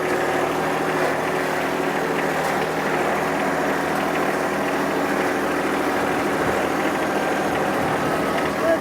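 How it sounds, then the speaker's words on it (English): A tractor engine idles steadily and close by in a backyard during a patio project. It gives a constant low rumble with no change in pace for the whole stretch. "I think I'll move the tractor out of the way."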